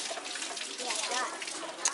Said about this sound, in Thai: ล้างอีก เทน้ำลงไปนั่นเอาให้สะอาดเอาให้สะอาด